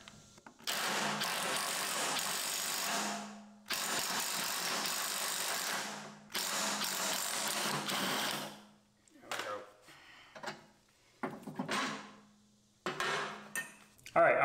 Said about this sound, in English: you need a deep head socket to be able to get down on there